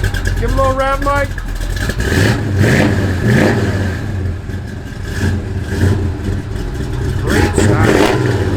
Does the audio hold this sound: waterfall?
no